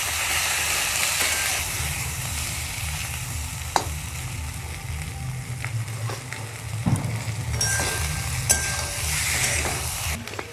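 Potatoes and spices are stirred and fried in a pan for a masala egg curry, with a loud continuous sizzle and hiss, occasional scrapes and knocks of the stirring utensil, and no voices.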